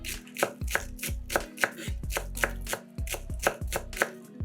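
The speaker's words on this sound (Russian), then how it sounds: "Нарезаем зеленый лук." A kitchen knife chops green onion on a cutting board in about a dozen crisp, evenly spaced cuts, close and clear with no talking.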